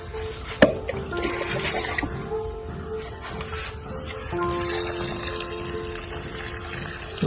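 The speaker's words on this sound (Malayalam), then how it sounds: "എല്ലാവർക്കും ഇപ്പം നമ്മൾ നല്ലോണം നനച്ചു കൊടുക്കട്ടോ" Water pours steadily onto freshly repotted philodendron plants, a continuous splashing and trickling into the soil of the pots that runs for several seconds at close range, with no talk over it.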